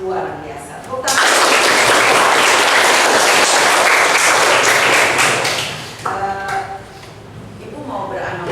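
Schoolchildren in an Indonesian classroom burst into loud, dense clapping that lasts about five seconds, then fades into lighter scattered claps and voices.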